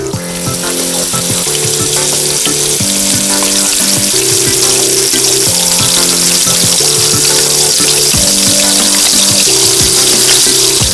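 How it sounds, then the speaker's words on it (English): Pork chops fry in refined oil in a very hot pan, giving a loud, steady sizzle that runs unbroken throughout, with a layered tonal hum beneath it. "Now, let's fry these chops."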